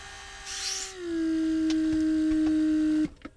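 A Mercedes central locking vacuum pump, in a car recovering from water damage, runs close up as a steady, fairly loud electric whine with a pitch that drops slightly after start. It holds for about two seconds, then cuts off abruptly, followed by faint clicks.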